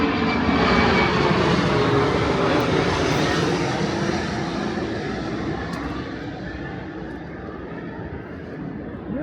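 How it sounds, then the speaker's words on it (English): Airplane passing low over the residential streets of Jackson Heights, Queens, New York, a loud, steady engine roar that fills the whole stretch and slowly fades as it moves away. "You can see that plane flies right over the tree line here."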